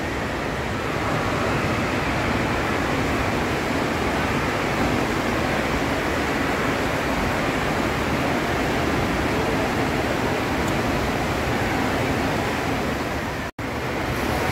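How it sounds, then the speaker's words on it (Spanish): Waves in the indoor wave pool at West Edmonton Mall, heard as a continuous broadband wash of surf with no distinct breaks, steady and fairly loud, then cut off abruptly for a moment near the end. "Miren las olas."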